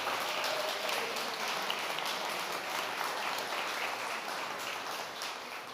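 Applause for presenters at a university research night fills the room as steady, fairly quiet clapping from a crowd, continuous and gradually tapering toward the end.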